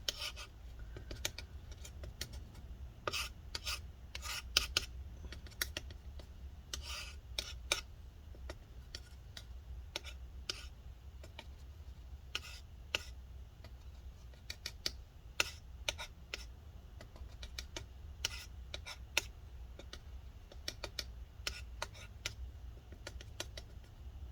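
Repeated short scraping clicks as a tool works adhesive loose under a 2016 13-inch MacBook Pro A1706 battery wetted with rubbing alcohol, close and faint, steady irregular ticks for the whole stretch with no talk.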